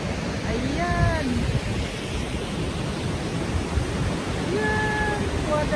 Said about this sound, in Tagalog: Waterfall nila dito.